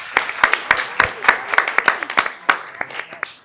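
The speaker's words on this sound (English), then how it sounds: "another big hand for all the winners" Audience at a Folsom city council meeting applauding contest winners, a scattered burst of many hand claps of uneven rhythm, fairly loud and close, with no talking over it.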